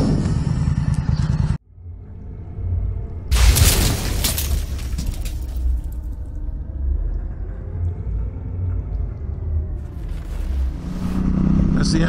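Motorcycle ride heading toward Wentworth along the anabranch, with a steady engine rumble and heavy wind buffeting that runs continuously after a loud burst, with a brief quiet cut early on.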